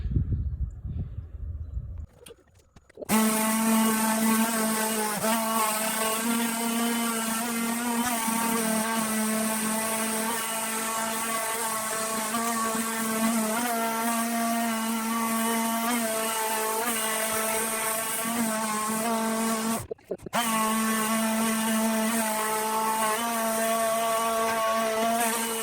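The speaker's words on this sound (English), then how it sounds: "So, finish sanding it down." A power sander smoothing a repair part on a Monaco Signature Hurricane, running as a steady, loud, high-pitched motor whine for over twenty seconds, starting after a quiet moment and cutting out briefly once before carrying on.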